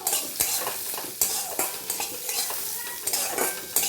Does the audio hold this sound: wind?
no